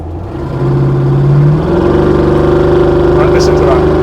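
Land Rover Defender 110 engine with its exhaust valve flicked open, a loud close mid-pitched drone whose tone steps up as it revs, with a brief faint high whistle near the end.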